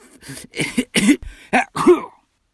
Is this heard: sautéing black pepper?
no